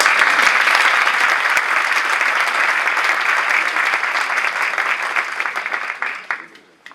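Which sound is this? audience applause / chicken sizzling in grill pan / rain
audience applause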